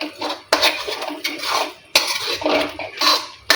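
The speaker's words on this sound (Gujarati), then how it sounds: "ટામેટાની પ્યુરીને 2 થી 4 મિનિટ સુધી શેકી લઈશું।" Tomato puree roasting in a pan is stirred with a spoon, making a few distinct scraping strokes against the metal with a faint sizzle between them, close and clear.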